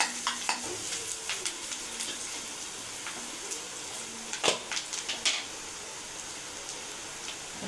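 Onions sautéing in a pan for bread egg kothu, a steady soft sizzle with occasional scraping stirs and a louder clatter midway, close and alone with no talk.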